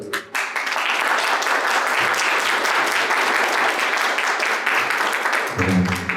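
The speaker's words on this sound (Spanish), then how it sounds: "les pido un aplauso" Audience applause for four authors at a book launch fills the room loudly and steadily, a dense wash of many hands clapping, with a short break at the start and a voice speaking near the end.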